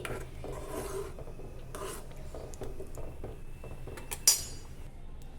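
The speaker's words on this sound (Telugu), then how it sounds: "హాఫ్ కప్పు రవ్వ స్లోగా ఇలా యాడ్ చేసేసుకొని బాగా కలుపుకోవాలి" Semolina being stirred slowly into thin upma in a pan, a soft continuous rasping scrape of the spoon against metal with a few faint clinks and one sharper knock near the end, quiet and close.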